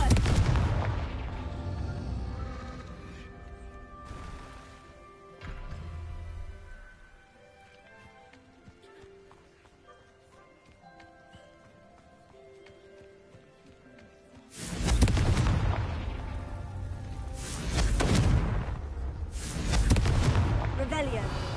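Booming explosive blasts from the Confringo fire spell in Hogwarts Legacy: heavy rumbling bursts at the start, a softer one near five seconds, then a strong cluster of blasts in the second half, with game ambience in between.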